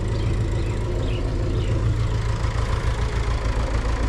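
A tractor engine idles nearby with a steady low, throbbing chug that stays even from start to finish, no voices present.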